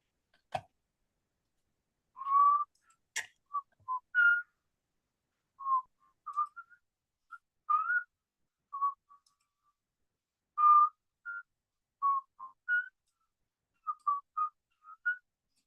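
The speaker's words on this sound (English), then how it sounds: "Y'all know what song I'm whistling?" Someone whistling a tune alone, short clear melodic phrases with gaps between them, close and moderately loud against near silence, with a couple of faint clicks.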